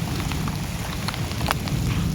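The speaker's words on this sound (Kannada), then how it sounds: "ಮಳೆ ಅಬ್ಬರ ಜೋರಾಗಿದೆ" Heavy rain falls steadily at an outdoor fishing spot, a dense continuous hiss of drops hitting surfaces with a few sharper splashes, loud and unbroken, with no talking.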